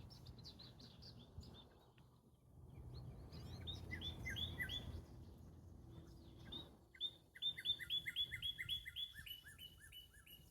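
A bird sings on a nature trail in April, repeated bright chirps and trills rising to a rapid run of notes, moderately near over faint rustling and low background noise.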